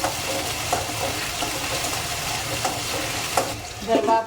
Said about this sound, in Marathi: पहिला मी बटाटूच भाजणार आहे त्याला बटाटे चांगलं भाजून घ्यायचं